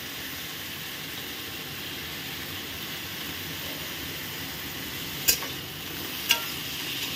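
Vegetables for a raw-banana curry are stirred in a frying pan with turmeric, giving a steady soft sizzle close by, broken by two sharp utensil knocks near the end.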